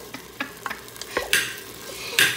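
A spoon stirs through a pan of Saudi kabsa, scraping in short strokes while oil sizzles steadily underneath, with a louder hiss of frying toward the end.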